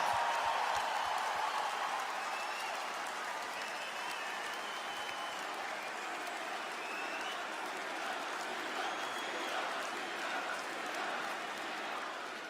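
A large arena crowd at WWE Crown Jewel in Australia applauds and cheers in a continuous dense wash of clapping that stays steady, heard from a distance.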